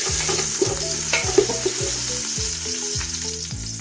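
Ginger and garlic fry in a pan, cooking for a salmon-head sinigang, with a loud, close, crackling sizzle and some stirring over soft background music.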